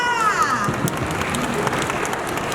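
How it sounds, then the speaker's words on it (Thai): An audience applauds at a Thai–Japanese volleyball event at Nippon Haku Bangkok 2023, a lively, close round of clapping with some crowd noise, and a voice briefly audible at the start. "ขอเสียงปรบมือด้วยค่ะ"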